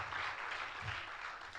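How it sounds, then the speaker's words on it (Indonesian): A church congregation at a worship service claps together, a soft, dense patter of many hands heard at moderate distance throughout the short stretch. "Yuk mau tepuk tangan aja saudara."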